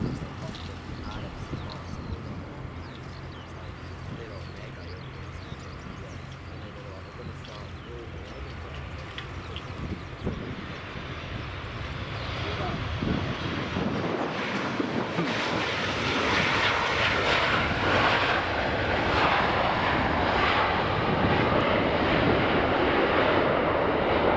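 A WestJet Boeing 787 Dreamliner on its first visit to Edinburgh Airport gives off a steady broadband engine roar that swells louder about halfway through, heard from a distance.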